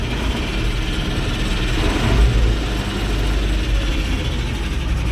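A T-150K tractor engine runs close by with a steady, heavy low rumble and a rattling mechanical clatter, continuous and loud throughout.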